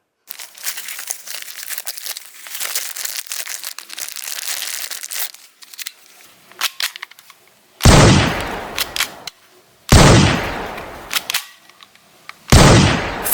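Toy Nerf blasters, including Dual Strike, Alpha Strike, Hammerstorm and Ranger models, give a long stretch of rapid clicking and crinkling mechanism noise, then three loud, separate bursts of firing close to the mic.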